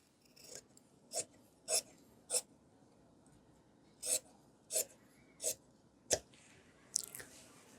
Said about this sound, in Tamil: இப்போ இதில் கட் பண்ணும்போது நாம் இப்படி வி மாதிரியே இதில் கட் பண்ணிடலாம்